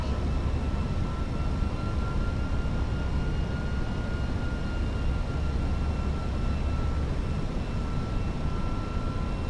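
A British Airways Airbus approaches runway 32 right and lands, heard from inside as a steady, loud broadband cabin roar of engines and airflow with faint tonal whines that never let up.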